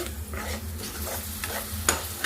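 A utensil scrapes and stirs through capsicum and potato masala curry in a pan, with soft sizzling underneath and a sharper clink near the end.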